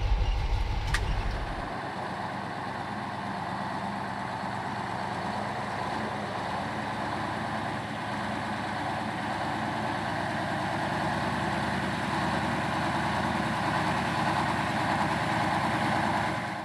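A KrAZ-256B1 dump truck engine runs steadily for the whole stretch, a loud, continuous diesel drone with a rough low rumble and no talk over it.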